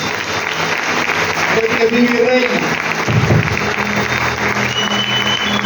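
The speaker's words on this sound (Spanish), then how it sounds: "Denle un fuerte aplauso." Church congregation applauding during a Spanish-language sermon, a broad steady wash of clapping through the whole stretch while the preacher keeps speaking over it.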